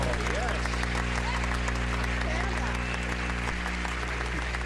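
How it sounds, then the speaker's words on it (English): Applause from a television game show studio audience, a dense and continuous wash of clapping with a steady hum and faint voices underneath. "We always welcome the new kid on the block with a brisk round of applause."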